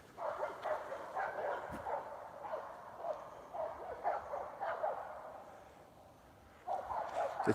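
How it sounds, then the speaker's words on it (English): Several dogs barking on a morning walk by a reservoir path, repeated yapping bursts in irregular clusters from a moderate distance, with a short lull before the barking resumes. "Have you heard them dogs? Listen to that."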